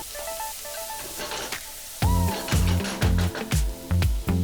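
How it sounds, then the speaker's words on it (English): Chopped onions fry in oil in a hot pan with a steady crackling sizzle, while music plays in the background and bursts of clanking stirring recur. "in a hot pan add oil, add 2 onions chopped and fry this until it is nice and soft"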